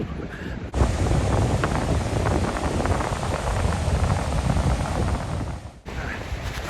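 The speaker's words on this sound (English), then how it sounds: "Very windy without this on." Loud, steady wind roars and buffets the microphone for several seconds at Sennen, Cornwall, with a sudden break in the noise near the start and again near the end.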